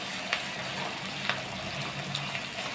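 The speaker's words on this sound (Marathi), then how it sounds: "आता हे वाटण याच्यात चांगलं आपण परतून घेऊया तेल." Ground masala paste fries in oil for misal, sizzling steadily at close range, with a few faint clicks of stirring and no voices.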